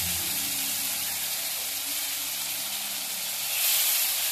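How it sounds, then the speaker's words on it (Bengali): Ginger, garlic and onion paste sizzles steadily in a hot pan with bay leaf and whole cumin, a broad continuous hiss that swells louder near the end, with no voices. "এখানে আমি আদা রসুন আর পেঁয়াজ বাটা দিচ্ছি"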